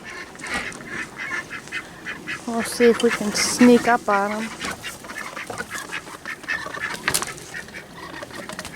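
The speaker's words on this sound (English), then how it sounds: "The ducks are out." Ducks quack on a snowy New England farm on a cold morning, a short burst of several nasal quacks in the middle, while a person talks nearby before and after.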